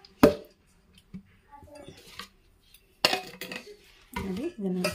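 Pickle mixture made with amte buds being transferred into a metal vessel, heard as a few sharp clanks and scraping knocks of metal spaced across several seconds, with someone talking at times.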